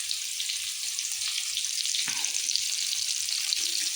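Ridge gourd frying with garlic and mustard seeds in a pan gives a steady, close, high hiss of sizzling oil, with a brief stir or clatter midway and no talking.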